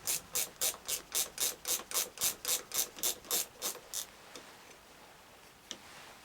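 An 8 mm ratchet clicks through about a dozen quick, evenly spaced strokes while undoing a nut on a Suzuki GSX1250FA in a garage, then stops, leaving a quiet room with a single faint tap.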